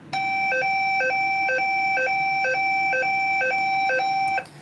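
A classic cassette recording of the Simplex high-low fire alarm tone, played slightly faster and higher, alternates two pitches rapidly and evenly for about four seconds, then stops abruptly, clear and alone with no speech.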